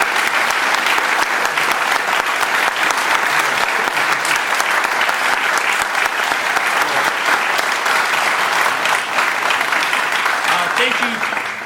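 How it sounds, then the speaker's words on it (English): A dense, steady round of applause from an opening-night theatre audience for veterans and first responders, loud and sustained throughout with a faint murmur of voices underneath. "can we just give them a special round of applause?"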